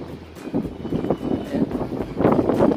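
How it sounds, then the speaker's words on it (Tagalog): Strong wind buffets the microphone outdoors, a continuous low rumbling roar with gusty swells that build toward the end. "Lakas ng hangin."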